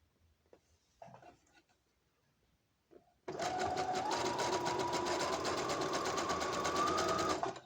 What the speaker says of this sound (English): I'm doing the stitch in the middle of the elastic.